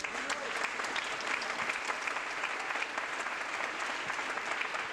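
An audience at a science-and-storytelling stage show applauds the singers, steady dense clapping from a crowd throughout, moderately loud and without pause.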